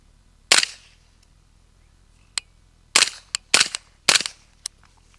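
Suppressed Colt SMG clone firing into a tire outdoors, several muffled sharp cracks: a single shot, a lone faint pop, then quick groups of two to three rounds in close succession, with quiet between.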